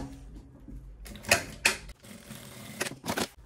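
A sewing machine stitching bias binding onto a men's lunch bag, running in two short bursts of rapid mechanical clatter separated by pauses.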